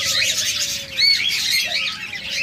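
Pet budgerigars and lovebirds calling at a bird sale aviary, with a busy overlapping chorus of high chirps and squawks running throughout at close range, one sharper call standing out near the middle.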